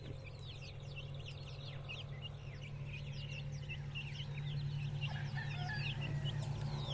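Chickens cluck and chirp steadily in the background, with high peeps from chicks scattered throughout over a constant low hum.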